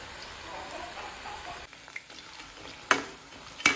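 Ladies finger pieces for a snack frying in hot oil give a steady close sizzle, with a couple of sharp scrapes and knocks as they are stirred.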